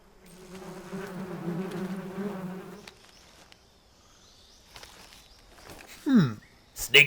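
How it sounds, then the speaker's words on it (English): Bees buzz in Metal Gear Solid Delta: Snake Eater, a steady droning hum through the first three seconds, then brief game effects and sharp rising tones follow near the end. "Snake will make friends with bees."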